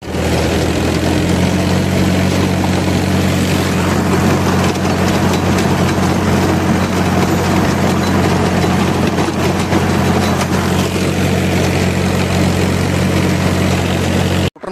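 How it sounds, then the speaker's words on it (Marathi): A tractor pulling a rotavator through a maize field, its engine droning loud and steady for the whole stretch with a rumbling low tone, then cutting off abruptly at the end. "रोटरी मारून घेऊ आता मकाला"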